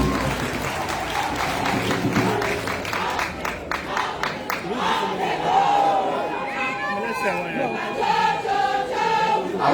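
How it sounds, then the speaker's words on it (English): A parade crowd claps and cheers for the Commandant General, a loud sustained round of applause with scattered shouts and murmuring voices mixed in. "Please, a hand of applause for the Commandant General."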